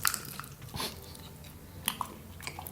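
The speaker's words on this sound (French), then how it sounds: "je croque dans du sucre" Biting into very sugary baklava from a delivery order, heard as a couple of close, soft crunches and chewing sounds with quiet pauses between them.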